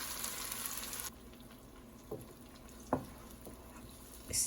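Ground pepper fries with diced onion in vegetable oil in a pan for a gizzard and plantain stew, giving a soft steady sizzle that drops quieter after a second, with a few light clinks and stirring knocks scattered through.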